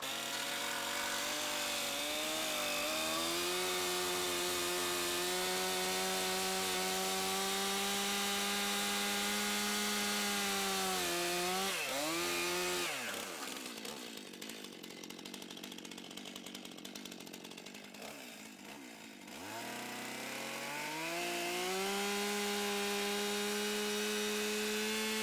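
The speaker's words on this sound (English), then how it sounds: "I'm not going to cut all the way through because I don't want to cut into the timber." Power saw cutting partway into a timber beam for a trestle in log-building timber framing, a loud sustained whine that dips and falls away mid-clip before the motor rises again to full speed.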